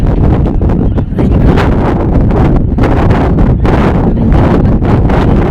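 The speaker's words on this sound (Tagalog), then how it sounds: "Kaya ang lakas ng hangin, parang ililipad yung sombrero." Loud, gusty wind buffets the microphone continuously, a rough roaring rumble with no pauses.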